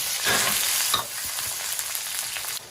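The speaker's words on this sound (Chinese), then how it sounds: "葱姜蒜爆香" Scallion, ginger and garlic stir-frying in hot oil, a steady loud sizzle with scraping stir strokes throughout, no voices.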